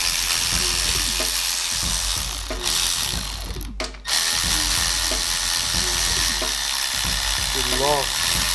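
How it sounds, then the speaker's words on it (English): A 10mm socket ratchet backing bolts out of an Eaton M90 supercharger, with bursts of rapid clicking pawl ratchet strokes, close up, separated by pauses and a short clank near the middle. "let's get a 10mm socket and take these off."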